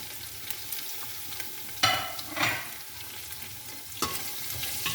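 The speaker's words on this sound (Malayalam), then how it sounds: "ഇത് നന്നായി ഒന്ന് ഇളക്കി കൊടുക്കണം." Bay leaf, dry lemon and capsicum sizzle steadily in a pan for a chicken mandi, with a few scraping stirs of a spoon rising over the constant close frying hiss.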